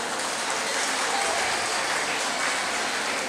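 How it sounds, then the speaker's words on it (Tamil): Sustained crowd clapping fills a 30th anniversary celebration at Vinayaka Vidya Bhavan nursery and primary school, a dense, steady wash of applause from an audience that stays loud and even throughout. "அதில் இவங்களுக்கு நல்ல ஒரு கைதட்டில் ஒரு பாராட்டுதல் சொல்லுங்க பார்க்கலாம்"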